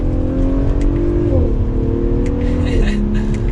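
A 2022 Audi SQ5 Premium Plus SUV sweeps through a hard right turn, its engine droning steadily with a shifting pitch as it corners, loud and close from inside the cabin, with a voice speaking over it.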